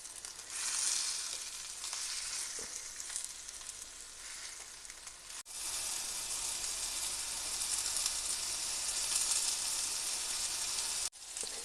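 Thin breaded pork cutlets, Polish kotlety schabowy seasoned with paprika, fry in a pan with a constant, bright hiss and crackle of hot fat. The sizzle is briefly cut off twice, then resumes just as steady.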